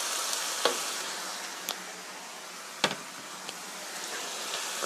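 Meat sauce with ketchup being stirred in a pan for tofu with meat sauce, a steady soft sizzle with a few sharp scrapes or taps of a utensil, close and even throughout.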